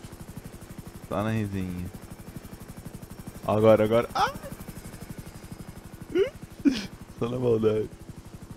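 A video game helicopter rotor chops steadily in a fast, even thump throughout, with someone speaking and exclaiming over it in short bursts.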